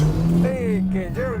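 A 2011 Audi Q5 SUV accelerates hard from inside the cabin, its engine note climbing in a rising hum with a brief dip and another rise, steady and close.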